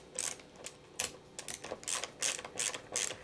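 Small screws driven into a Rickenbacker 4003s bass pickguard with a screwdriver, a series of quiet close ratcheting clicks and creaks in short bursts, with no talking.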